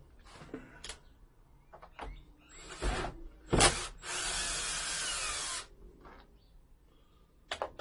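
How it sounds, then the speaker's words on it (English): A power driver removes screws from the underside of a Sprinter van arm rest, whirring in a loud sustained burst after several scattered clicks and knocks from handling the part. "There's some screws on the bottom. We'll take those babies out."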